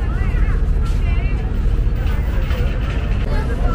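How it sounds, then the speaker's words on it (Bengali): A passenger launch departing from a river ghat near Guwahati, Assam, produces a heavy, steady low engine rumble, loud and close, with people chattering over the top throughout. "এখনই কিন্তু লঞ্চ ছাড়বে।"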